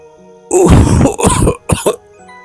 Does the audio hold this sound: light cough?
yes